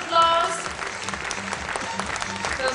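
Audience applause for a student award winner at a science event, a steady wash of many hands clapping that swells at the start and holds loud for a few seconds, with faint voices and a tone underneath.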